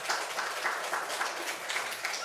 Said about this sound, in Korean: 감동이 오시면 박수로 한번.